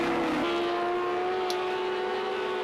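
A Porsche GT3 race car at Donington, its engine holding a steady, loud high-pitched drone with a brief shift in pitch early on, close and continuous.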